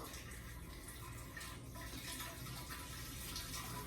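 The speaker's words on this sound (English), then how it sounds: "we gotta really get this siphon thing right, but all right, there we go" Homemade wine siphoned through a tube into a keg, a steady, quiet liquid rush and gurgle running continuously without any talking.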